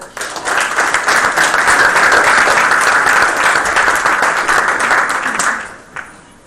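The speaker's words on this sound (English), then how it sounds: "Let's give him one more round of applause." A room full of attendees at a school district board meeting gives a loud, sustained round of applause that tapers off near the end.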